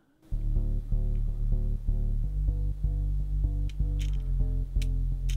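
Remix bass line with sidechain pumping, played with the full track of the remix: a deep, steady pulsing low end under repeating synth chords and occasional hi-hat bursts, loud and alone.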